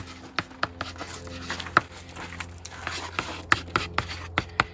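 A marker or pencil writes on the cut side of a board in a woodworking shop, giving a series of sharp taps and short scratchy strokes spaced irregularly over a few seconds.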